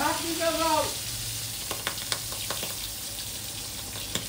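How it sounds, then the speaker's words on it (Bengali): Pabda fish fry in a pan with a steady close sizzle and a few sharp clicks of stirring. A short voice is heard at the start. "এইভাবে কিন্তু আমরা একটা একটা করে মাছ ছাড়বো আর ভাজবো"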